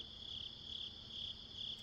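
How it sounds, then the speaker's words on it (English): Crickets chirp steadily outdoors at night, a continuous high pulsing trill repeating in even bursts over a soft, quiet background. "I have crickets outside all the time."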